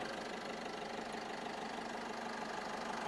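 A 2020 Isuzu Mu-X 1.9 diesel engine idles with a steady, even hum and a constant airy whir from the cooling fan, smooth with no change in pitch.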